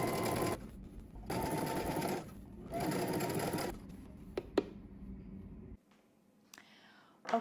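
Domestic sewing machine stitching a double-fold narrow hem on a flounce runs in three short bursts of steady whirring, followed by a few clicks and a near-silent pause.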